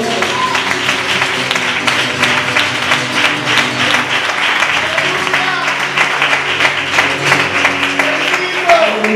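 Church congregation applauding during a worship service, steady dense clapping filling the space for the whole stretch, with music tones and voices underneath.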